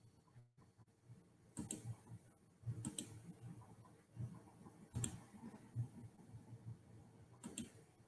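Sharp, quiet mouse clicks on an online course platform, several isolated clicks spaced irregularly over a faint room hum.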